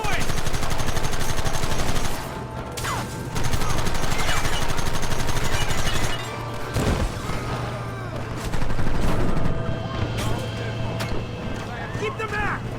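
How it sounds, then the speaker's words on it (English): Dense, rapid gunfire from Red Dead Redemption, loud bursts of shots and rattling volleys piling up continuously alongside hoofbeats, with voices shouting over the shooting. "Gun them down!"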